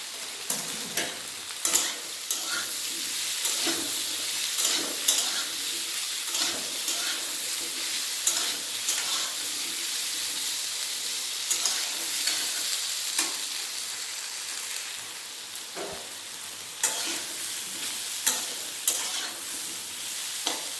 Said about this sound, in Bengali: আদাও ভাজা হয়ে গেছে